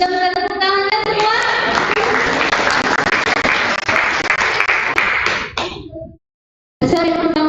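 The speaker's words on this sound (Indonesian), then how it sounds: "Bisa minta tepuk tangan semua?" Audience applause at a student executive council election event in Cirebon, a dense steady clapping from a crowd that swells for several seconds, cuts out briefly, then resumes.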